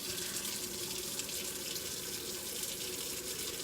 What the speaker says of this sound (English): I'm gonna slide over here to the sink and get some water.